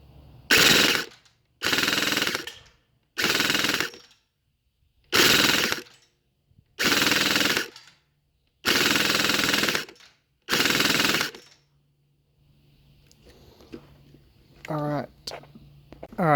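Airsoft UMP45 fitted with a 27 cm tight-bore stainless barrel fires seven loud, even full-auto bursts, each about a second long, separated by short silences, followed by faint handling noises.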